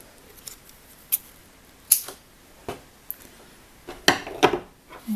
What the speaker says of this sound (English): then we're going to cut our yarn